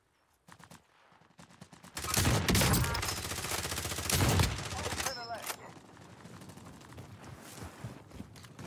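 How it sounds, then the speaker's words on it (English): Gunfire in the shooter game Warzone, starting with sparse distant shots and then heavy bursts of automatic fire that swell twice and trail off into scattered cracks, with players talking over it. "They're shooting at somebody"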